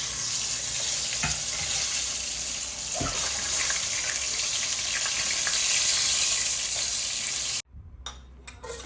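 Sliced eggplant frying in a pan, a steady close crackling sizzle with faint stirring scrapes, cut short near the end.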